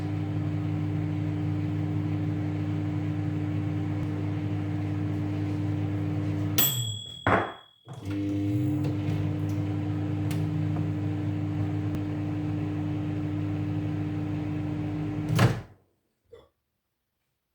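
A steady microwave oven hum runs for a long stretch, broken by a door opening and closing, then resuming before a final beep-like click and silence.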